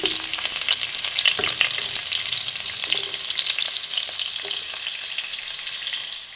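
Chopped onion fries in a generous amount of oil, a bright continuous sizzle heard up close with faint stirring clicks, gradually easing toward the end.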